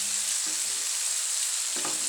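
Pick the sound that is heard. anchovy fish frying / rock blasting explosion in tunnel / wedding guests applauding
anchovy fish frying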